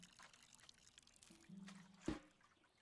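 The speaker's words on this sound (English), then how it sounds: "give you a little bit of water" Water poured onto a freshly planted plant in the botany video game Botany Manor: a short, soft liquid splash and trickle, fairly faint and heard alone without talk.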